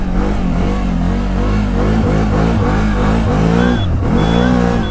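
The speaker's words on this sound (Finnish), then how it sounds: "Eli kyseessä on siis täysverinen traktorimönkijä" The engine of a CFMOTO CFORCE 1000 utility ATV runs loud and close, a steady harmonic drone whose pitch wavers and rises and falls with repeated throttle changes, with no clear talk over it.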